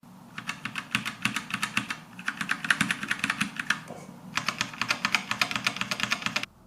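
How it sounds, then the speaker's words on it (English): Clicky MAGEGEE MK-BOX mechanical keyboard with red switches typing in three quick bursts of rapid keystrokes separated by short pauses, close and moderately quiet. "you're going to hear my keyboard"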